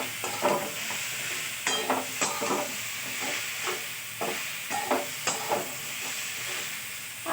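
Water poured into a simmering curry in a pan sets off a constant sizzling hiss, punctuated by brief stirring scrapes at a loose, repeating rhythm, with no voices.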